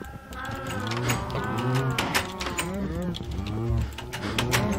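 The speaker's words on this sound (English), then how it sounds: "I'm going to cut a few of these cows down because they're too loud." Many Minecraft cows moo loudly and continuously, their overlapping calls rising and falling close by in a crowded, noisy chorus.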